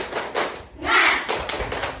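Schoolchildren in a classroom clap the rhythmic 'tepuk semangat' chant, a few quick groups of claps separated by a short whooshing pause, fairly close.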